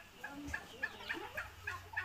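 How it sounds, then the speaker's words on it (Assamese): American Royal turkeys calling on a poultry farm, a series of short, repeated gobbling and clucking calls spaced about every quarter second, moderately near over a low background hum with no talking. "এইবিলাক আমেৰিকান ৰয়েল টাৰ্কি বাৰ্ড হয়"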